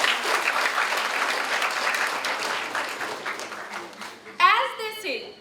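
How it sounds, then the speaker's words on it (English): Audience applause at a moot court valedictory ceremony, a dense, steady wash of many hands clapping that fades gradually, followed by a brief burst of amplified speech near the end. "May we have a big round of applause."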